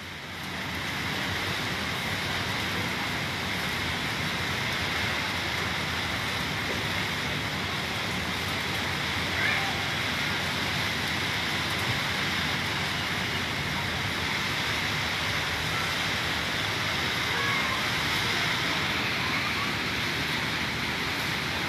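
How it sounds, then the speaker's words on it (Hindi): Light monsoon rain falls steadily across Delhi, a broad, even hiss of drizzle that holds at a constant level throughout without pauses or voices. "हल्की हल्की बारिश शुरू दिल्ली के अंदर"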